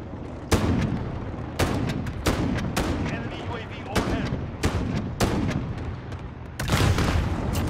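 A video game firefight with missiles and claymores: a rapid series of sharp, loud blasts and gunshots, roughly a dozen bursts at irregular intervals, with some voice underneath.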